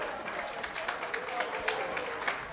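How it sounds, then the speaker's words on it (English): An audience at an opera house fundraiser gala applauds in a dense, steady patter that holds evenly throughout, with talk faintly mixed in. "give them a round of applause"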